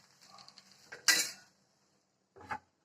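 Dosa lifted off the pan and moved to a plate: soft scraping, then a single sharper metallic scrape and clatter, a pause, and a second brief clink, all quiet and close.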